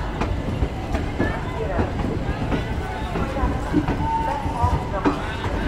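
Howrah Kalka Netaji Express train running, a steady rumble with rhythmic clicking of wheels over rail joints, heard from inside the coach.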